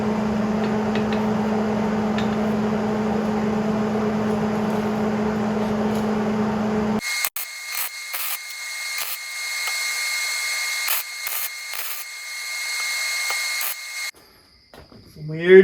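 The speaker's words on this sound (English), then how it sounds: "Some weird noises coming from my welder." A welder working on a scrap-metal dragonfly garden sculpture makes odd noises: a steady buzzing hum, then after a sharp cut a series of irregular crackling, pulsing bursts that end in an abrupt stop.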